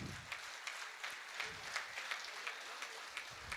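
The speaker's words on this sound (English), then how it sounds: "Give a big applause to them." Faint, distant applause from an audience at a tech summit in Malleswaram, Bengaluru, with individual claps audible in a loose, steady patter.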